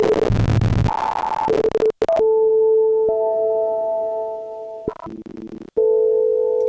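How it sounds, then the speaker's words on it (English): Harsh digitally degraded tones from a Qu-Bit Data Bender module using bit crushing and sample rate reduction: steady buzzy pitches with gritty, crunchy texture, abrupt dropouts and glitchy stutters between sustained held notes. "digital grid using, I guess, sample rate reduction and bit crushing"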